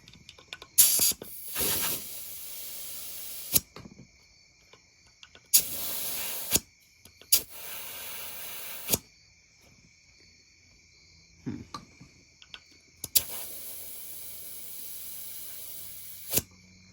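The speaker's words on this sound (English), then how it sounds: "I had to let the compressor build up a little bit more air, but we're going to continue putting some air in it" An air compressor hose fills a mini bike tire in short, sharp bursts of hissing air, several separate blasts with quiet pauses between, close by and fairly loud.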